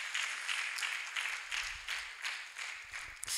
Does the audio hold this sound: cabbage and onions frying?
no